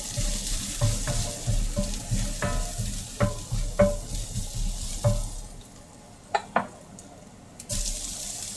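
Food sizzles in a hot pan with a continuous frying hiss. Sharp utensil clicks and scrapes punctuate it, and the sizzle thins and quiets toward the end.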